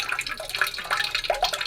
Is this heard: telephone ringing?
no